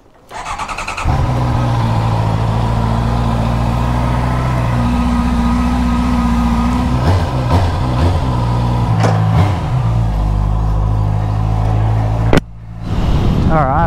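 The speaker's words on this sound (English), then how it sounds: "Let's head out on the bike and see how it runs" Motorcycle starting and riding on a road, a loud steady engine drone rising and shifting in pitch as it pulls away, with a sharp bump near the end.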